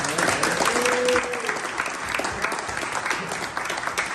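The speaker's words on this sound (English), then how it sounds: "So that deserves an applause." An audience claps steadily at an award presentation, a dense wash of applause that fades slightly toward the end, with a faint tone briefly audible early on.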